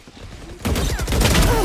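A burst of rapid gunfire and explosive blasts from the video game Valorant erupts after a quieter moment, loud and dense, continuing to the end.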